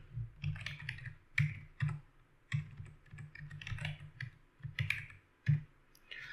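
Quiet keystrokes clatter on a computer keyboard in short irregular bursts of clicks as a command is typed into a Windows command prompt, with no voices over them.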